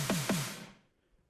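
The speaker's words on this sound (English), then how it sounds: "it's like a cheesy sounding 80s disco type of snare" Two quick 80s disco-style electronic snare hits with a descending pitch sweep, bright and noisy, followed by a short decaying tail into near silence.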